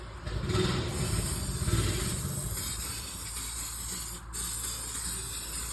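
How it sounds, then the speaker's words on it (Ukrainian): Brake cleaner sprayed from an aerosol can onto a new rear brake disc of a Toyota Corolla E150, a loud sustained hiss that runs almost the whole time with a brief dip near the end, close up and without talk. "Перед встановленням нового диска пшикаємо такою штукою брейк клінер, очиститель тормозів."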